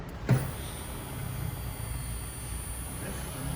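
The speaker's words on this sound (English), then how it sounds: "Here the cranking of the select speed system just now. It goes whirling away." The Selespeed automated gearbox system of an Alfa Romeo 159 2.2 JTS with a recently flat battery whirs steadily after a single click, a low, even motor drone close by.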